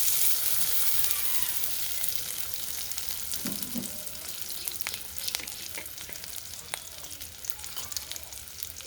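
Fish curry frying in mustard oil in a village kitchen, giving a continuous crackling sizzle at moderate level with scattered sharp pops and stirring sounds, no talking.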